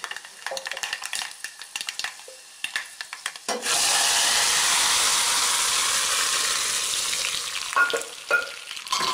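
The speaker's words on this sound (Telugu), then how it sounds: "పోపు వేసుకుందాం." Tempering spices for pappu palakoora hit hot oil and burst into a loud, steady sizzle. Before that come a few close clatters of a utensil, and near the end some stirring knocks cut through the hiss.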